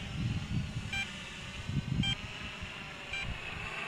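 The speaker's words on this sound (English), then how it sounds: "What's the beeping sound?" A Traxxas Aton drone gives three short, faint electronic beeps spaced about a second apart over a low rumbling background.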